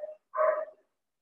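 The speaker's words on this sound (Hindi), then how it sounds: "वो बाहर कुत्ता भौंक रहा है" A dog barks outside, two short barks a moment apart, the second longer and fuller, heard at a modest distance with quiet between them.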